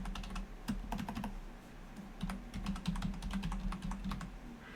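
Keys clack on a computer keyboard being set up alongside a Goldshell CK Box 2 mining rig, a steady run of quick taps in bursts with short pauses, close up, over a low constant hum.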